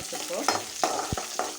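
Curry leaves hitting hot oil with mustard seeds, cumin and urad dal, a close, loud crackling sizzle broken by a few sharp pops and stirring scrapes over about a second and a half.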